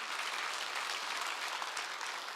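Church congregation applauding together, an even, sustained crowd clapping heard from a moderate distance, steady in level with no voices standing out.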